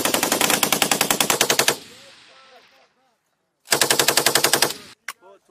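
An M240 machine gun fires on a Marine long-range range, two sharp rhythmic bursts of about a dozen rounds each separated by a pause, with echoing decay and a couple of stray clicks after.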